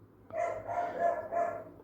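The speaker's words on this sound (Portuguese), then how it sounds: "meu cachorro está implicando com algum vizinho lá" A dog barks at a neighbor somewhere off in the distance, giving three or four muffled barks in close succession, moderately faint, with no talk over them.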